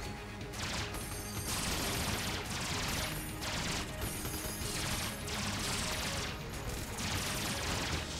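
Rapid weapon fire in the video game Enter the Gungeon, a dense continuous barrage of shots with rhythmic bursts, loud and unbroken over game sounds.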